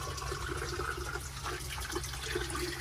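Water running from the hot tap in a new Coachmen Beyond RV with plumbing not dewinterized, a steady close rushing flow with low rumble underneath, continuous and alone without talk.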